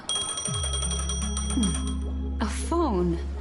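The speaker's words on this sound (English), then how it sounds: "A phone." A telephone rings in the video game Honkai Star Rail: a brisk, bright electronic trill near the start, then game music and sound effects with rising and falling tones.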